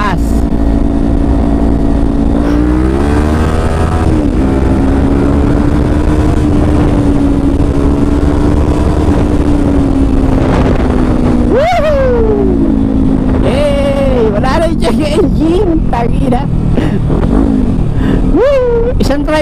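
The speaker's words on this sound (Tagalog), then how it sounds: "Pero kailangan mo i-drive ng i-drive yung motor." A Kawasaki Ninja 400 motorcycle with an O2 sensor malfunction (error code 33) is ridden, its engine a loud, continuous drone that rises and falls with revving and shifting, with whining pitch sweeps toward the end.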